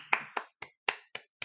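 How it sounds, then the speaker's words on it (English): Six sharp hand claps in quick, slightly uneven succession, close and alone. "I clap for you."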